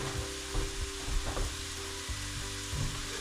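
Egg fried rice with carrots and peas sizzles in a hot pan, with a steady frying hiss and periodic scraping thumps of stirring, close up and with no talking.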